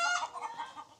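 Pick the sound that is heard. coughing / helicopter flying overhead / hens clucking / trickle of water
hens clucking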